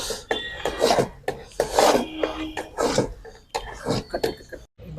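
A ladle stirs a pot of sweet pongal for the Thai Pongal festival, with a pinch of green camphor just added. Repeated close scraping and rubbing strokes come in a steady rhythm.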